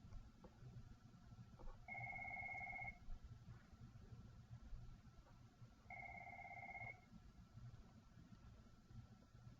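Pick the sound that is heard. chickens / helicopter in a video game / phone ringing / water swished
phone ringing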